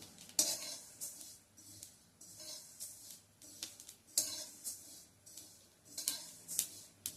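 Fennel seeds dry roasting in a pan for a homemade Ayurvedic mouth freshener, giving soft irregular crackles and light clinks of stirring, quiet and close with no talk.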